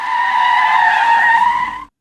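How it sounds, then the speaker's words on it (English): Car tires skidding in a car crash sound effect, a loud sustained tonal screech that holds for under two seconds before cutting off sharply. "I mix it with this car crash"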